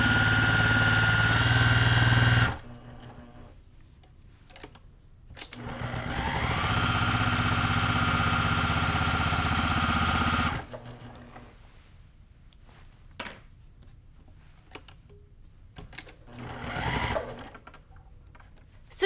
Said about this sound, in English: this is how I do all my sewing with chain piecing